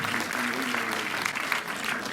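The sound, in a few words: audience applause at film screening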